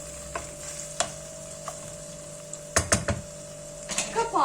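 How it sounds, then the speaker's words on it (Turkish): A spoon stirs tomato paste and three peeled tomatoes in a pot, giving scattered knocks and scrapes against the metal over a low sizzle, with a quicker cluster of clatter toward the end. "İyice karıştırıyorum."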